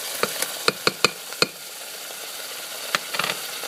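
Curry paste is added to a pan of Khaub Poob sauce. Steady close sizzling runs throughout, with a cluster of sharp clicks and taps early on and a few more near the end.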